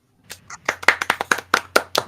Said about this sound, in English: Claps for Jason.